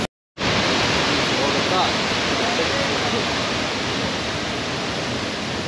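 Heavy flow pours down Thommankuthu waterfall in Kerala, a loud continuous roar of rushing water that kicks in after a brief silent moment and holds steady and near.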